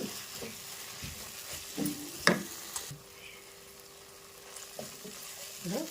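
Tomato paste and garam masala frying for a rui fish curry, with a low sizzle under occasional spoon scrapes and a sharp clink against the pan, moderately quiet and close.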